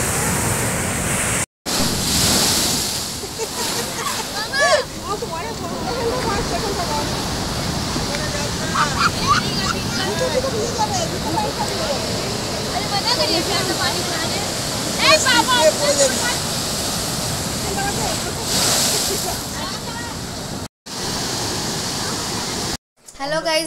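Sea waves at Digha beach wash and surge over people in a continuous rushing roar with heavy wind buffeting on the microphone, while voices speak over it.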